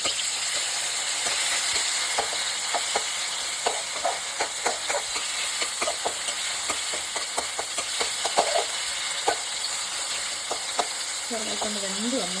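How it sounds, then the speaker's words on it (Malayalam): Sliced medium-size tomato sautés in a pan for rasam, giving a steady soft sizzle with intermittent scraping clicks from stirring throughout. A voice begins speaking briefly at the very end. "ഇതൊരു മീഡിയം സൈസ് തക്കാളി സ്ലൈസ് ചെയ്ത് ചേർക്കുന്നു. ഇച്ചിരി നല്ലപോലെ നമുക്ക് വഴറ്റിയെടുക്കാം."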